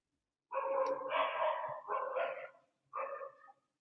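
Neighbours' dogs bark in a few long, rough bursts from nearby, then a short final bark after a brief pause, with no talk over them.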